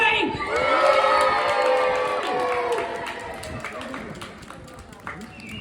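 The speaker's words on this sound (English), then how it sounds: "After 3, the loudest cheer you possibly can." Crowd in an outdoor convention courtyard erupts in loud cheering, whoops and shouts with some clapping, strongest early and gradually fading over several seconds.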